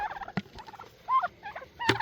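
Turkeys gobble in short rattling bursts near a farm coop, a couple of sharp knocks and pecking sounds between the calls, fairly close and moderately loud with no talk over them.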